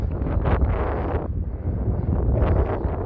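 Strong gusts buffeting the microphone on a seaside promenade, a low roaring rumble that swells and eases in waves, with no voices.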